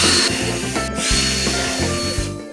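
A power drill with a 3 mm bit bores a screw hole into a wooden plank, giving a loud, close whirring grind that shifts pitch as the bit bites, with brief knocks along the way.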